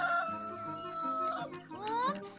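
A cartoon rooster crows amid layered tonal sounds, with a voice speaking briefly in Italian nearby.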